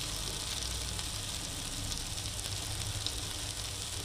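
Sago upvas appe crisping in oil in an appe pan, a steady, close sizzle and fry hiss that holds evenly throughout.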